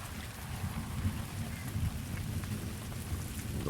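Heavy rain pours steadily in a video game scene, with low rumbles of thunder rolling beneath the downpour throughout, loud and continuous with no talking.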